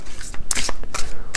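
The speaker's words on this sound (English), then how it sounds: "I just shuffled my deck here, which is the Beyond Mind Oracle" A Beyond Mind Oracle card deck is shuffled close up in quick, crisp riffling bursts, with several rapid flutters in a short span and no speech.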